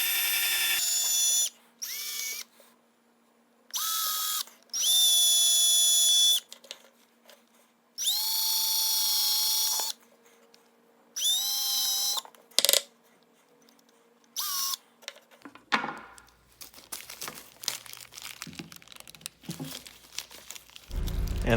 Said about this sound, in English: I'm just going to take a 16-inch drill bit and drill a hole down the middle of